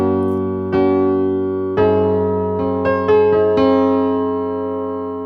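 Piano accompaniment in a 1980s style with left-hand octaves doubling the bass under sustained chords, struck in several clear attacks that ring and decay, played alone.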